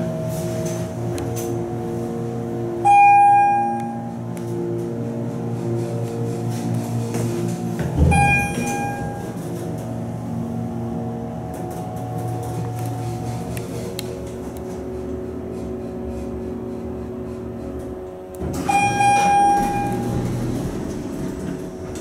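A Schindler MT hydraulic elevator in a parking garage in Roanoke, Virginia runs with a loud, steady pump hum, broken three times by short chime tones and clunks.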